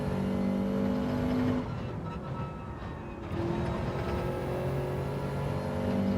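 A car engine in Gran Turismo 7 revs and accelerates, holding a steady drone, dipping as the throttle eases, then climbing again with rising tonal whine, loud and close throughout.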